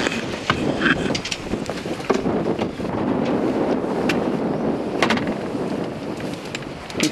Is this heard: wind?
yes